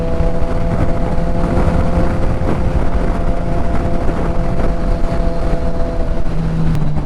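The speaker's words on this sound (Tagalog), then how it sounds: "Kahit maingay yung motor natin, payapa." A motorcycle engine drones steadily at speed, mixed with rushing wind noise, loud and continuous throughout.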